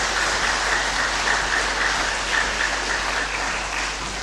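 A church congregation at a thanksgiving Mass applauds the bishop, a dense, sustained burst of clapping from many hands that holds steady throughout, fairly close and with no speech over it.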